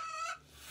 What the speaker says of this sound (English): One of the things you get to choose from tonight is a chicken.